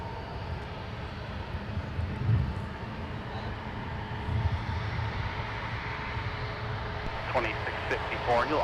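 A Delta airliner taxis at Minneapolis–Saint Paul airport, its steady jet engine rumble and whine sustained at moderate distance, with people talking over it.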